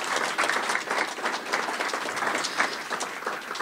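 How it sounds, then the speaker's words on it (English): A breakfast crowd at a chamber of commerce forum applauds the culinary students and chef, a dense, continuous wash of clapping that holds steady throughout the short stretch. "how about another round of applause for the culinary students and Chef for this fantastic"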